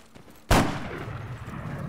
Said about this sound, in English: I'm being shot at from the building.